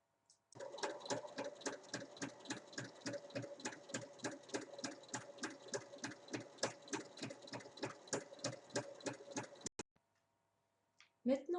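Sewing machine stitching folded and pinned fabric strips for a book cover, a fast, even run of close mechanical needle strokes lasting about nine seconds before stopping abruptly, followed by a couple of handling clicks.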